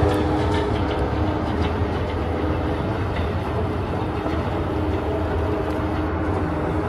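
Amtrak Silver Star 92 passenger train rolls past near Ybor City, a loud steady roar of wheels and cars with faint clickety-clack, continuous for several seconds without talk.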